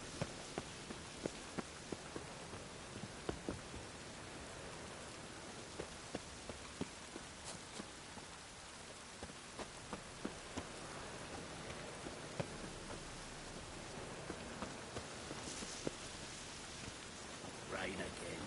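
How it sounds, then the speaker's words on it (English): Rain falls steadily in The Witcher 3: Wild Hunt, a constant hiss of drops with scattered louder taps across the whole stretch, no voices. "Rain again."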